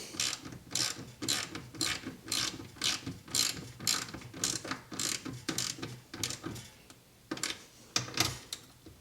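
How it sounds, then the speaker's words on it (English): A ratchet with a 10mm socket tightens bolts on an EZGO RXV golf cart, giving rapid runs of close, crisp clicks in an irregular back-and-forth rhythm with short breaks. "Now we are going to take our ratchet, 10mm socket, and we will tighten these down."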